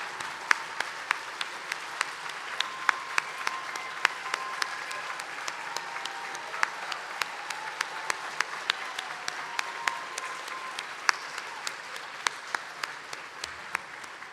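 Steady applause from an audience at an awards banquet, honoring award winners standing in place; dense, sustained clapping with sharp individual claps popping out, continuing evenly throughout.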